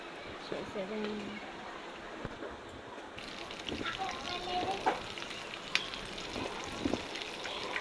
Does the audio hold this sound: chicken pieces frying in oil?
yes